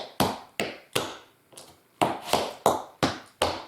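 Tap shoes strike a hard floor in a crisp five-count riff, sharp close metallic taps in a quick uneven rhythm with brief gaps between groups, no voices.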